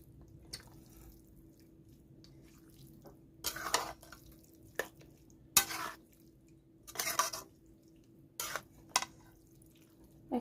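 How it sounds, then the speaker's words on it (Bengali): Mango pieces are stirred into spices for a mango oil pickle, giving intermittent wet squelching and scraping bursts against a bowl, separated by quiet pauses. "তো এখন মশলার সঙ্গে আমটা খুব ভালো করে মিশিয়ে নিতে হবে।"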